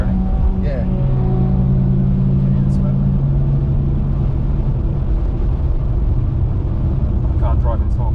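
A BMW 330ci Clubsport runs warm-up laps on a track, its engine droning steadily and loudly throughout with shifting pitch, while someone talks over the engine noise.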